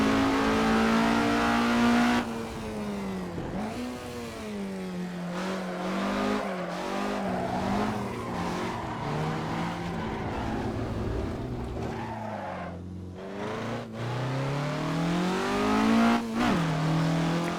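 A Skip Barber race car in a racing game revs hard and close, its engine pitch sweeping up and down through gear changes and corners with occasional tire skids, loud and sustained throughout.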